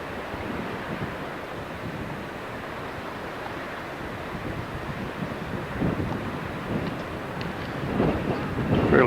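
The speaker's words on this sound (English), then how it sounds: "Fairly windy." Steady wind sweeps across a high mountain pass on Going-to-the-Sun Road in Glacier National Park, a broad rushing roar buffeting the microphone that builds stronger toward the end, with no talking.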